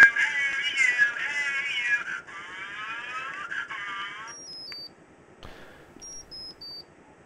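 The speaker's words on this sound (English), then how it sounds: "So there I activated the alarm." A microcontroller-built laptop alarm sounds a warbling electronic siren for about four seconds, then cuts off, followed by short, high-pitched paired beeps with gaps between them.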